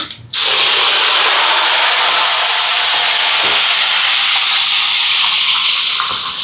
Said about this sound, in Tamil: எண்ணெய் சூடாகிட்டு கடுகு சேர்க்குறேன் இதோட பெருஞ்சீரகம் சேர்க்குறேன் கருவேப்பிலை